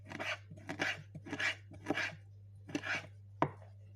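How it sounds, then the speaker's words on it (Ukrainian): A knife chops steadily through herring fillet on a cutting board, several sharp crisp strikes in an uneven rhythm over a low constant hum. "Філе остелеця нарізаю на маленькі шматочки."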